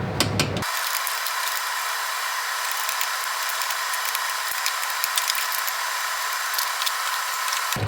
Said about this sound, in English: I'm going to try removing this bolt over here, this bolt over there, and then that guy down there